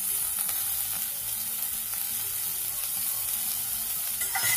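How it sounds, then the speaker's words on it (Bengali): Chopped onions hiss and crackle in hot oil in a pan, a steady, close sizzle that fills the whole stretch with no one talking. "তেলটা গরম হয়ে গেছে, এখন পেঁয়াজ কুচিটা দিয়ে দিচ্ছি"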